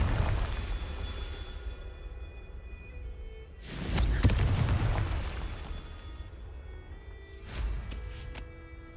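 Confringo fire spell explosions in the Hogwarts Legacy video game: two booming blasts with rumbling tails, one in the middle and a shorter one near the end, over a low game soundscape with a sustained tonal hum.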